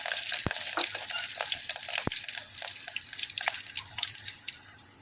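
Steady bright sizzling of chopped chillies frying in hot oil with crackled cumin seeds, close up, with a couple of sharp drips or pops cutting through the hiss.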